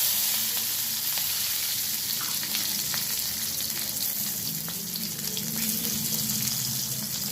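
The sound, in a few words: cumin seeds and slit green chillies sizzling in hot oil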